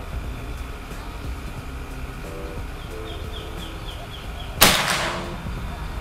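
A single sharp report from a PCP air rifle being fired at a 50-meter target, sounding once near the end, loud and close, with a broad burst that decays quickly over a low background hum.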